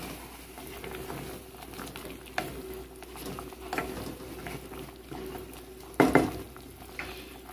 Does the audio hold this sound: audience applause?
no